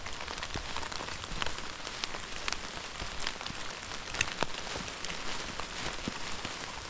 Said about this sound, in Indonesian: Kayak hujan.